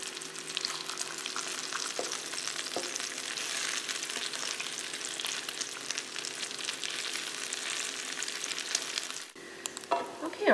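Bacon fries in a Presto 11-inch non-stick electric skillet, sizzling and crackling steadily up close, with a few light utensil scrapes and knocks near the end; no talking.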